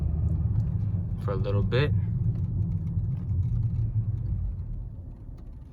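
A car pulls away from a parking lot at night, its engine a low, steady rumble heard from inside the cabin, while someone speaks briefly over it.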